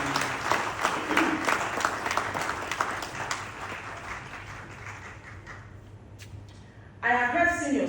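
Audience applause after a keynote speech at a legal conference, a loud, dense wash of clapping that gradually thins and fades before a speaker's voice returns.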